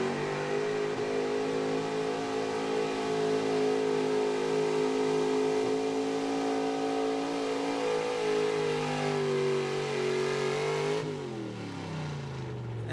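A 1977 Ford pulling truck at a truck and tractor pull in Eastern Pennsylvania, its engine roaring at sustained high revs throughout the run, loud and steady, then dropping off sharply near the end.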